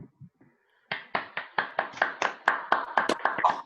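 Online audience members clap over a video call after unmuting, a brief quiet start giving way to a ragged run of separate, fairly close hand claps lasting about three seconds.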